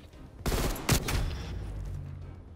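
A burst of video game gunfire during a Fortnite gunfight: two or three sharp loud shots close together, followed by a fading tail, with no talking over it.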